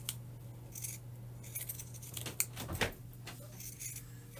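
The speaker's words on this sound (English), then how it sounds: "using pinking shears on this is just to eliminate some of the bulk" Dull pinking shears snip through fabric while a pillow is sewn, giving a scattering of short, crisp metallic cuts at irregular intervals over a low steady hum, fairly close and quiet, with no talk.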